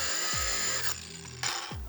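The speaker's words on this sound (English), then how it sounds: "So we'll grab the saw and we'll get cutting." Hand saw cutting through a plastic cold air intake part clamped in a vise for an AU Falcon, a steady close rasping broken by short pauses between strokes, with no talking.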